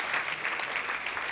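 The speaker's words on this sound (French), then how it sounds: "Et là, vous avez le droit d'applaudir." Audience applause fills a church during a sermon: steady, dense clapping from many hands, moderately distant and continuous throughout, with no voices over it.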